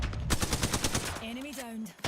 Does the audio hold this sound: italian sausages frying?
no